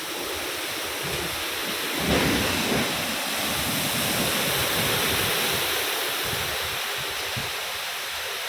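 Heavy Kalbaisakhi thunderstorm rain pours down in a steady, dense hiss, with a brief low rumble of thunder near the start. No voices are heard.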